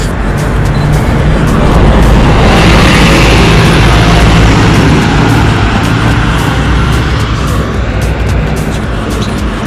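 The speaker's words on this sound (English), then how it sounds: "we've got a bus coming, let's try and do this." A bus rumbles past on a city street at night, a loud, close roar of engine and road noise that swells and fades over several seconds.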